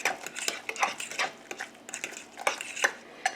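A fork scrapes and taps steadily in a bowl, mashing and stirring creamy deviled egg yolk filling for Southern-style deviled eggs. The strokes are quick, close and fairly even, and no one speaks.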